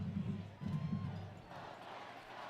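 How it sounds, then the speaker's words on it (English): A stadium crowd at a Montana State football game against Weber State chants "Go Cats go" in Bobcat Stadium on a sloppy day, a low, rhythmic chorus of voices in short bursts before fading into general crowd roar. "Go Cats go, echoing through Bobcat Stadium"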